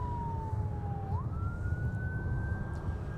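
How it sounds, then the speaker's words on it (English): A distant ambulance siren wails steadily at an airport, its tone dipping then sliding back up, over a constant low rumble of traffic. "I hear the sirens in the distance."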